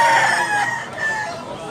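One rooster from a yard of Banugon and pumpkin-cross fowl in Tabunok, Cebu crows loudly and close, a long drawn-out call that tapers off over about two seconds.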